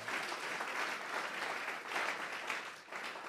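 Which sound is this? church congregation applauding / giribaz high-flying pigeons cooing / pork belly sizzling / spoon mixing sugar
church congregation applauding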